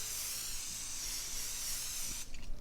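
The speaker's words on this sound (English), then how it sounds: "get yourself a baking sheet or a cookie sheet and spray it with some cooking spray" Cooking spray hisses onto a baking sheet in one continuous close, loud burst that stops abruptly near the end.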